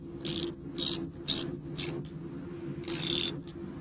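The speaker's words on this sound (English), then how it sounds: "Take out the slack and retighten the bolt." A bolt on a split bolt connector joining electric fence wire is retightened with a wrench, giving a series of short ratcheting clicks in bursts with brief pauses, close and fairly quiet.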